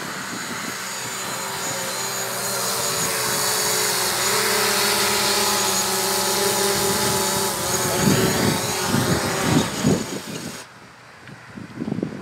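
A DJI Mavic Pro drone flies in wind and comes in to land, its steady buzzing whine holding under gusty rumble before cutting off sharply near the end, followed by brief handling thumps.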